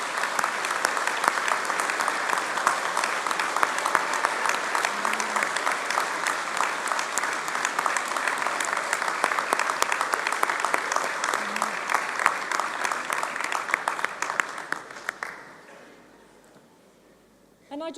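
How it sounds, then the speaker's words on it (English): Sustained, thick applause fills an auditorium at an Open University degree ceremony in London, holding steady for about fifteen seconds before tapering off to near silence, with a brief new sound at the end. "give them a wave and let's give them a big round of applause"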